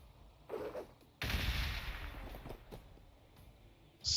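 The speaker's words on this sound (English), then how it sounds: "Crack grenade." A crack grenade attack in the Warhammer 40,000: Gladius video game bursts in with a sudden loud blast, followed by a rough crackling, rumbling decay, set between quieter game sound effects.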